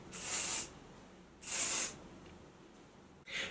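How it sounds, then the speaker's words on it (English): Hairspray spraying onto hair being styled into mermaid waves, two short bright hissing bursts about a second apart and a third starting at the end, close and fairly loud. "I personally like to put a little bit of hairspray up here"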